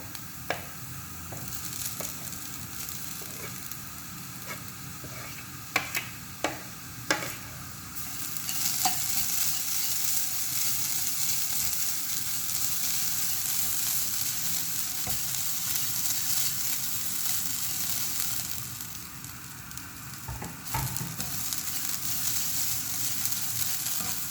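Spice paste stirred in a frying pan for a pumpkin-leaf thoran, with onions and curry leaves already sautéed; several light scraping taps up front give way to a steady, fairly loud sizzle that holds to the end.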